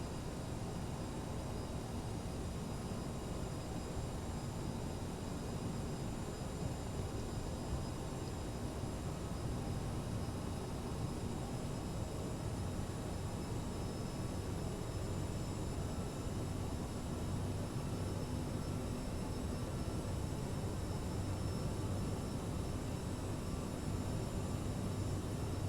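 Aircraft engine in the cockpit of a departure from Memphis toward New Orleans in stormy weather, as the throttle is advanced: a steady, faint, continuous drone with a broad rumble and no clear change in pitch.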